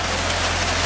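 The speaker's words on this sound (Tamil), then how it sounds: "நாங்கள் வந்தபடியே தான் இந்த மழை வருது" Heavy rain pours down steadily during a thunderstorm in Jaffna, a dense, even hiss that fills the whole moment with no gaps, with a low steady hum underneath and no voices.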